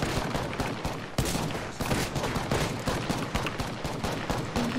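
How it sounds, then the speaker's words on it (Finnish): Gunfire in the battle royale game Apex Legends, a sustained run of rapid, loud automatic shots with regular sharp bursts throughout. "Ei vitsi, mistä ne ampuu?"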